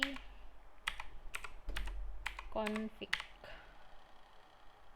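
Keys on a computer keyboard are tapped in short bursts of crisp clicks as a command is typed, with a faint voice briefly heard between strokes.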